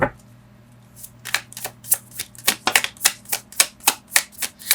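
A deck of tarot cards riffles and snaps through repeated shuffles, a rapid run of crisp, close flutters and taps growing denser after a quiet start.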